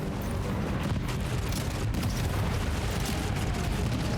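Fireworks-like explosions in the video game Death Stranding 2 form a dense, continuous roar of booming rumbles and crackling bursts, loud and unbroken throughout.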